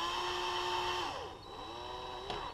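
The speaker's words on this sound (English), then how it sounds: "I take the drill and I just get rid of that" Power drill drilling out threads in a plastic part for a 1/6 scale Camaro concept model, a whining motor tone that drops in pitch under load, dips, then spins back up, close and alone.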